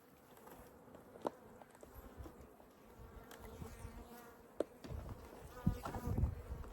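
Honeybees buzz steadily close by as a nucleus colony is installed into a hive, with soft frame knocks and handling bumps breaking through the drone.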